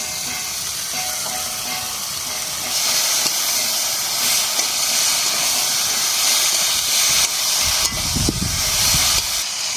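Okra cooks with salt and chili paste in a covered pan, giving a loud, steady hissing sizzle that continues throughout with a few faint clinks.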